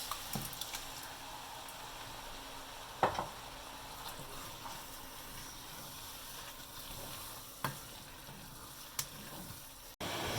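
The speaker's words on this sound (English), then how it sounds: "So we're boiling this for a little bit now." Steady, quiet sizzling and bubbling of tomato sauce boiling in a pot on the stove, with a few soft clinks and a thump near the end.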